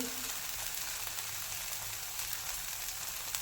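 Amboli batter sizzles on a pan over a raised gas flame, a steady, dense, close frying hiss that stays even throughout, with no talking.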